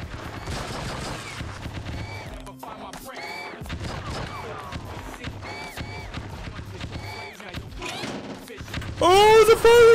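Firing-squad gunfire in an open-world police video game: rapid bursts of shots mixed with game music and effects, fairly loud, with a player's excited voice over it and a sharp loud burst at the end.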